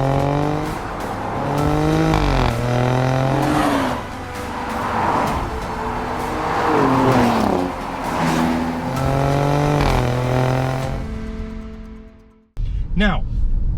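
Alfa Romeo Stelvio Quadrifoglio with its 2.9 litre twin-turbo V6 drives loudly and close, the engine rising and falling through repeated rev sweeps and gear changes before cutting off abruptly near the end, followed by a brief sharp burst.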